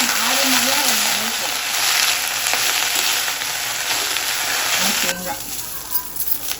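Ingredients, including coconut, sautéed lightly in a hot pan, with a loud, steady sizzle and crackle that runs almost the whole time and eases near the end; a voice is heard over it at the start.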